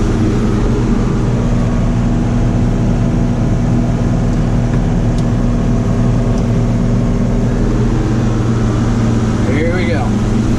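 A John Deere 4440 tractor pulling an 835 MoCo mower through first-crop hay, its engine a steady, loud, unbroken drone that runs the whole time, with a faint voice briefly over it near the end.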